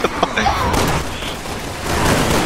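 Dense gunfire in the co-op shooter Resident Evil 6, a loud, continuous barrage of shots and booms with a few sharp bursts near the start, filling the scene without letup.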